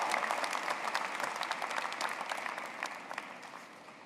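A Binghamton University commencement audience gives sustained applause to welcome a student speaker, a dense, even wash of many hands clapping at a distance that slowly fades toward the end.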